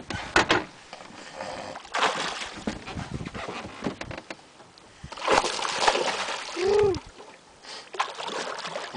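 A hooked dorado thrashes at the surface of Pantanal water from a boat, throwing bursts of splashes and slaps up close in uneven spurts, with brief voices and handling noise around them.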